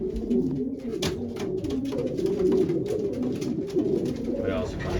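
Racing pigeons coo continuously inside a breeding loft, overlapping throaty coos near and far, with wing flutters and occasional sharp clicks through the chorus.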